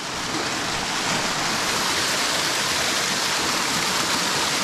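Mountain spring water pours out of the side of a mountain in the Victorian high country as a bottle is filled, a steady, close, full rush of water with no break and no talk.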